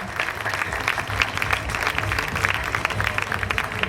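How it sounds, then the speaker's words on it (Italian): A crowd at a regional beauty pageant final in Veneto applauds for Salvo Natoli, a steady, dense round of clapping from many hands throughout. "Volevo un grosso applauso per l'amico Salvo Natoli"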